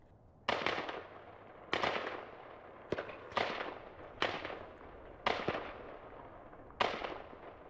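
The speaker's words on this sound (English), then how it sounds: "Listen close as gunshots ring out." Six sharp gunshots crack out from an active shooter standoff in a residential neighborhood of Huntington Hills, Calgary, spaced about a second apart. Each loud report rings off into echoes, and no voices are heard.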